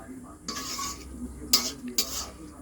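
Mocha (banana flower) curry is stirred in a pan with ghee: three distinct scraping strokes of a utensil against the pan over a soft background hiss.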